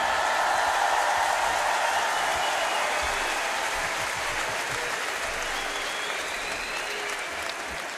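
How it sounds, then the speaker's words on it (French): Concert audience in a large arena applauding a pianist as he is welcomed on stage, a dense, sustained roar of clapping that stays loud and steady throughout before easing slightly near the end. "monsieur Raphaël Charpentier, s'il vous plaît, applaudissements pour lui."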